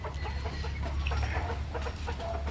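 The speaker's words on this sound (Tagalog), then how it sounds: "putak ng putak yung mga manok, nag-iingay tapos hindi sila mapakali" Chickens cluck noisily and restlessly in a farm coop, with a stream of overlapping clucks and squawks over a low, steady hum.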